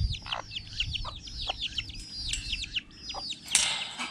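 Chickens cluck and chirp close by in a busy, overlapping chorus, with a few soft wing flaps and no talking.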